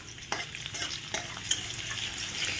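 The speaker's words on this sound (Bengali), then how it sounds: "ভালো করে ভাজা হোক ফোড়নটা" Whole spices temper in hot oil for red spinach, a bright, steady sizzle with a few sharp stirring scrapes and spits close to the pan, no voices.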